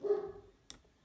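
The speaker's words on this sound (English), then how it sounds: "Oh, my dog is barking." A single short dog bark up close at the start, fading out, followed by a sharp tick and quiet.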